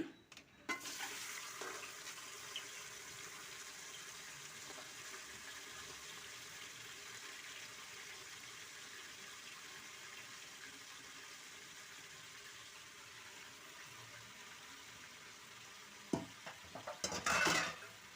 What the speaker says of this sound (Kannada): ಎಣ್ಣೆ ಬಿಸಿ ಆದಮೇಲೆ ಮಟನನ್ನು ಹಾಕ್ಕೊಂಡು ಫ್ರೈ ಮಾಡ್ಕೊಳ್ತೀನಿ ಎಣ್ಣೆಯಲ್ಲಿ